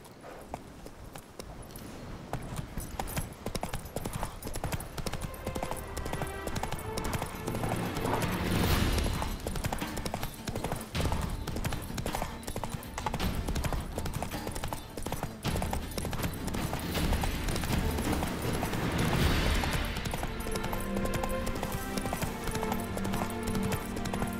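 Rhythmic hoofbeats of Roach, the horse from the video game The Witcher 3, galloping steadily and loudly alongside a dense game soundtrack of music and ambience, with occasional swells and no pauses throughout.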